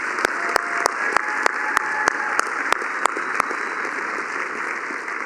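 A ceremonial groundbreaking crowd claps for student and faculty representatives, a dense steady applause with a few sharp, distinct claps standing out near the microphone throughout.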